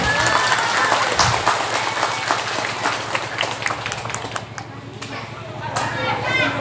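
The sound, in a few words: audience applause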